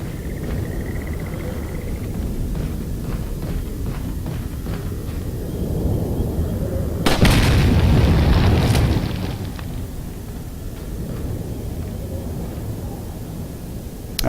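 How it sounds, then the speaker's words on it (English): An incendiary grenade in the video game Resident Evil 4 goes off as a sudden broad burst of noise that swells for a couple of seconds and then settles back into a steady background rumble. "Incendiary grenade? Why not?"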